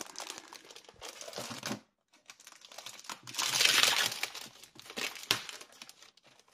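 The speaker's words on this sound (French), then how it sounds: "Désolé pour le bruit de papier" Colored paper crinkles and rustles in bursts while an album cover is made, close up and fairly loud, with a short quiet pause before the crumpling picks up again.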